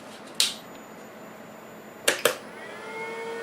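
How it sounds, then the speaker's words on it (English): Sharp clicks from a buzzer in a mystery box device, one near 0.4 s and a quick pair around 2.1–2.3 s, followed by a faint steady electronic whine. "I hear the click from the buzzer."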